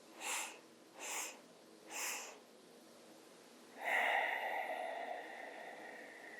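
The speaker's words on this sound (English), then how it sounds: "Then 3 inhales and 1 exhale." Yoga breathing through the nose with three short, sharp sniffing inhales in an even rhythm, a brief pause, and then one long, steady airy exhale, heard close and alone.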